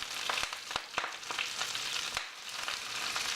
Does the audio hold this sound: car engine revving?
no